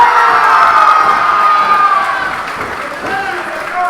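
Crowd cheering and shouting at a wrestling show, with high-pitched yells and whoops mixed in. The noise is loud and sustained throughout, fading slightly toward the end.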